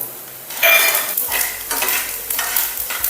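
Chana dal, urad dal and peanuts hit hot oil for an upma, sending up a close, loud sizzle. Spoon-against-pan stirring scrapes and clinks through it, with no talk.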